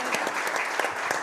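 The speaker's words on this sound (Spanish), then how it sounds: "Le damos un fuerte aplauso a nuestros..." A brief stretch of dense, steady applause from an audience at an alumni mining and business club gathering, close and even throughout.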